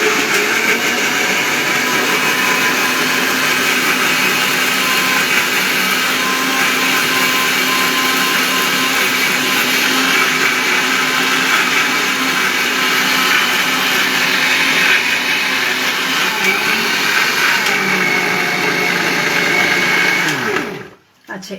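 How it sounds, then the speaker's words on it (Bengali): An electric grinder whirs loudly and steadily for about twenty seconds, grinding ingredients for a paneer dish, then winds down abruptly at the end, close by. "আমি এটা গ্রাইন্ডিং করে নিলাম।"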